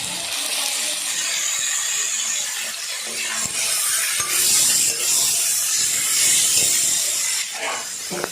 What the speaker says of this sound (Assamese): এতিয়া মাংসখিনি দিলোঁ।